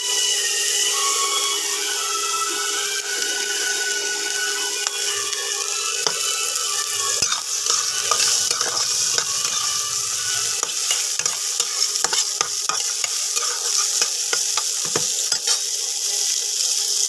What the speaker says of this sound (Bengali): ভাজা ভাজা করব।